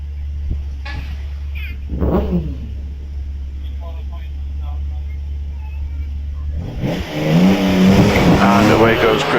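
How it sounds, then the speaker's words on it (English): At the Prescott historic hillclimb, a Porsche 911 RS race car idles with a low, steady rumble under a commentator's voice, then bursts into a loud, rising engine roar as it pulls away. "So the Porsche 911 RS has fired back up."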